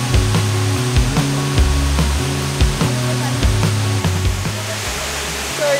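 Strong flowing water rushes loudly and continuously on a remote island, a dense roar with a low rhythmic drone running underneath it throughout.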